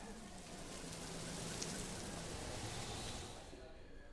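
Heavy monsoon rain pours steadily over Kota in the Hadoti region, a dense continuous hiss that swells slightly midway before easing toward the end.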